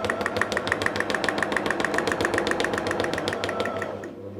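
Sewing machine doing free-motion quilting of feather patterns, running in a fast, steady needle rhythm that is close and fairly loud before it slows and stops at the end. No one speaks.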